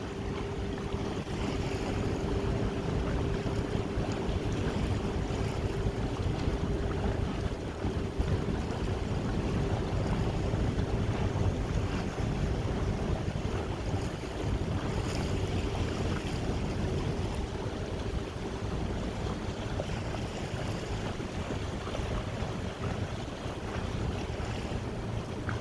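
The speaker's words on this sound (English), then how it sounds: "That boat's gonna come down our side all the way?" A steady boat engine drones over lapping water and wind buffeting the microphone, continuous and even throughout.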